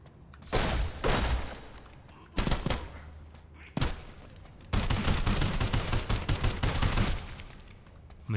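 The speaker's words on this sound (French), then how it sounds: "On a essayé l'arme auto." Bursts of automatic weapon fire in the shooter game Sulfur: several short loud volleys separated by gaps, then a longer sustained stream of rapid shots, close and punchy.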